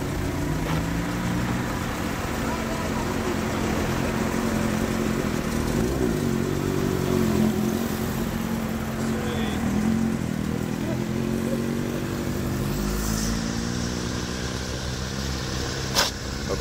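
A Mercedes car drives past at a car meet in Noordwijkerhout, its engine and exhaust a steady low rumble that swells and fades, heard from nearby amid ambient outdoor noise.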